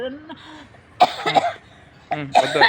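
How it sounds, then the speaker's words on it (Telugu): An older person coughs close by in short harsh bursts, two clusters of dry hacking coughs separated by a brief pause. "వయసు పెరిగితే ఇట్లాంటి దగ్గులే వచ్చేది"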